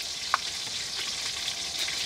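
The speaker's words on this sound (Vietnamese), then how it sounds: "Giờ nè, chiên cá nè." Breaded linh fish deep-frying in a pan gives a continuous bright oily sizzle with a few small pops and stirring clicks, close and steady with no talk.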